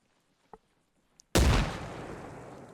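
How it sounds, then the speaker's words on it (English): A grenade explodes in Arma Reforger: two faint clicks, then one sudden, loud, deep blast that rumbles and slowly fades. "So we'll fling a grenade there."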